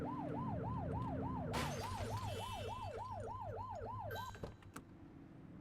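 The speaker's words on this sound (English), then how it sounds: "Get on their tail and flip the siren." A police car siren in The Precinct video game wails in a steady rising-and-falling cycle, loud and close over engine rumble, cutting off abruptly near the end.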